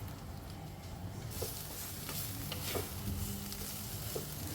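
A generous handful of curry leaves frying over a low flame in a pan with grated coconut and halved shallots, giving a steady, fairly quiet sizzle with a few soft crackles and pops.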